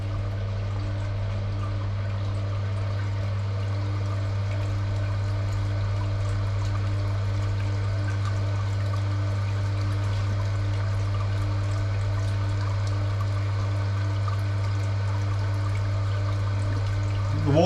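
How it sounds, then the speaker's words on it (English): Water runs steadily from the tap of a home-brewing sparge setup, a constant close rushing pour with a low hum beneath it, uninterrupted and without talk. "The water's running through"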